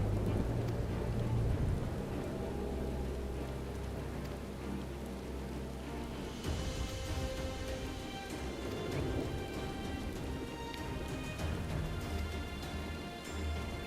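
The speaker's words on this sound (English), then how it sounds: "It started raining." Rain falls steadily in Final Fantasy XIV, a dense hiss of drops on surfaces with a soft low rumble beneath, continuous and even across the whole stretch with no voices.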